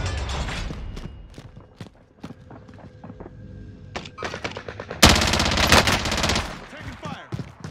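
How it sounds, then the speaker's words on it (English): Gunfire in Call of Duty Warzone: scattered sharp single shots and short bursts, then a sudden loud, sustained automatic burst near the end, with footstep-like movement in between. "Taking fire."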